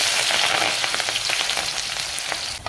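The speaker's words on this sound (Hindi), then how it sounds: "अब मैं इसमें ऐड करूंगी ये बारीक कटा हुआ लहसुन, बारीक कटा हुआ अदरक और बारीक कटी हुई हरी मिर्च" Finely chopped garlic, ginger and green chili hit hot mustard oil for radish bhujia, a dense, loud close-up sizzle that crackles steadily for a few seconds before easing slightly.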